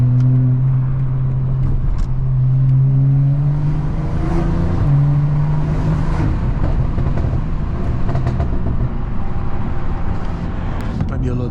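A 500-horsepower BMW cruises on a freeway, its engine a loud, steady drone with shifting tones under constant road and wind noise from inside the car.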